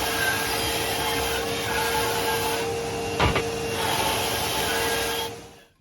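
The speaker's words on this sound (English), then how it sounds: "we're at the bandsaw here, rough cutting the ring pieces close to the mark" A bandsaw rough cuts wooden ring pieces close to the mark, a steady continuous mechanical whine and hum with a brief sharper burst partway through, then winding down at the end.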